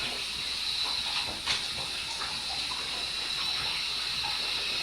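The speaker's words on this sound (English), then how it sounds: "This nozzle does not put out very much water, so it takes a while." Water runs steadily from a low-flow bathtub nozzle into a soapy, partly filled tub, a soft continuous hiss and trickle with no talk.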